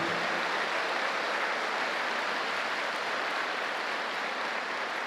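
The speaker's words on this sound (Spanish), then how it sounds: "Dale un fuerte aplauso al Señor." Congregation clapping during a church sermon, a steady, even roar of many hands sustained throughout at moderate level, no talk on top.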